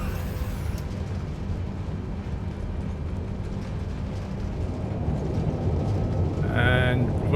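Boeing 787 thrust reversers roaring on landing in Microsoft Flight Simulator, a steady loud broadband rumble that swells toward the end, with a voice talking over it.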